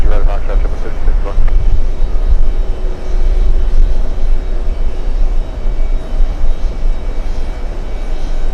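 A CRJ regional jet at JFK airport during a heat wave sends out a loud, steady low engine rumble and roar that fades slightly over time, with voices faintly underneath.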